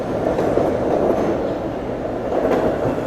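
An out-of-service subway train rolls past close by, a loud continuous rumble with faint clickety-clack of wheels on rails and no speech over it.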